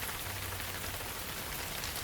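Gentle rain falls steadily outside a cafe, an even, soft hiss of drops with no other sounds standing out.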